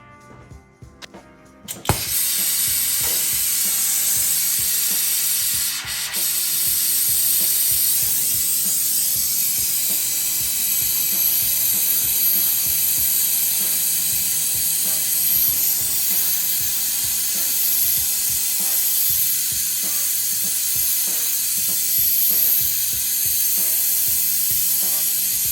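An oxygen gas torch heats metal on a 1988 Chevrolet C30 truck, roaring as a steady, loud hiss once it lights after a short quiet start and holding constant for the rest of the span, with no talk.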